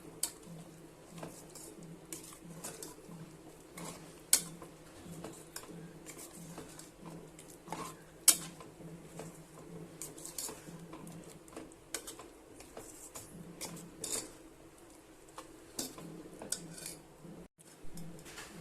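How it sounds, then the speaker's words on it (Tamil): Mutton being stirred with ground masala in a pressure cooker pot for kurma, a spoon tapping and scraping in an irregular clatter of small metallic clicks, fairly quiet and close, with no talk. "சேர்த்துட்டு நல்லா எல்லாம் கிளறி எடுத்துக்கோங்க."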